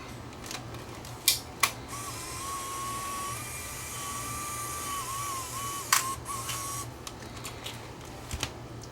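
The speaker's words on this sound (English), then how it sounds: "I was able to get that pulley that was seized up unseized, and it is now playing tapes." A Panasonic PV-DV900 camcorder's tape mechanism plays a tape after a seized pulley was freed, giving a steady quiet mechanical whir with a thin high tone and a few sharp clicks.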